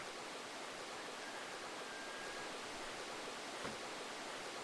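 River water in the video game Dark Cloud, a steady broadband rushing flow, even and unbroken, faint and without talking.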